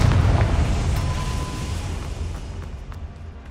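A Confringo spell blast in the video game Hogwarts Legacy, a loud fiery explosion at the start that rumbles and slowly decays over a few seconds, leaving a crackling tail.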